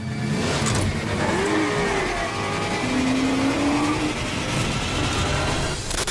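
A 1970 Dodge Charger R/T muscle car engine revs continuously and loudly at close range, with rising and falling throttle sweeps over a steady rumble and no talking.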